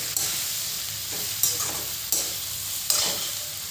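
Okra being stirred with salt in a pan makes a steady sizzle, with a few sharper scrapes of the spoon at irregular moments and no voices.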